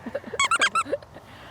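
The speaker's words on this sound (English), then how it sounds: "what she really wants is a little furry thing that squeaks." A dog toy squeaks several times in quick succession, sharp and close, then goes quiet.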